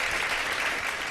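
A studio audience applauds three guests with steady, dense clapping that holds at an even level throughout, and no talking is heard.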